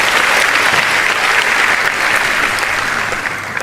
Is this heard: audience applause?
yes